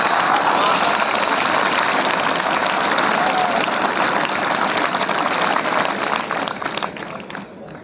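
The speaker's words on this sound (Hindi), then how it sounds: "तो एक बार उनके लिए भी तालियां बजती हैं" Loud, dense audience applause at a Delhi Police constable training batch event at the Wazirabad centre, a continuous wash of clapping that holds steady and then fades toward the end.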